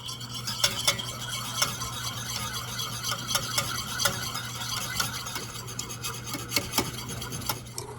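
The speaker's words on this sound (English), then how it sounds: "Now I'm going to temper the egg mixture back into the hot cream" Egg mixture being whisked and stirred into hot cream for crème brûlée: a steady scraping, rasping rhythm of whisk against the bowl, with a few sharper clinks, close and continuous throughout.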